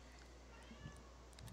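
Cat meowing in the horror game Silent Hill 3, a couple of faint short meows over a steady low background hum.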